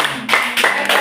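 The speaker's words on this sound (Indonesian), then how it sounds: "Tepuk tangan dulu dong." A group at a therapy session claps hands loudly and close by, in three quick rhythmic bursts within about a second.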